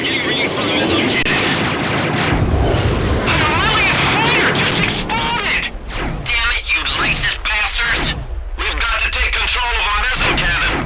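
Heavy cannon fire in the video game Ace Combat X, repeated booming blasts over a dense battle soundscape while radio voices talk throughout.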